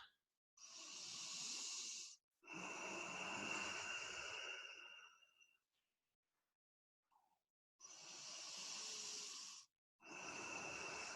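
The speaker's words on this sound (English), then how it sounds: "And we breathe." Slow, deep breaths during a guided movement and meditation session, long airy inhales and exhales close to the microphone, with a silent pause in the middle and no talking.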